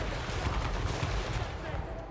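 Volley of gunfire in Total War: Warhammer III, a dense, continuous crackle of massed shots that holds steady for about two seconds at moderate level, with voices faintly underneath.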